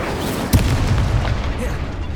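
In the Hogwarts Legacy video game, an Incendio fire spell is cast with a sudden deep boom and a rumbling burst of flame under a constant game background.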